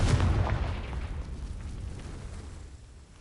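The Confringo blasting spell in the Hogwarts Legacy video game bursts in a loud, deep explosion that booms at the start and then rumbles and fades away over a few seconds.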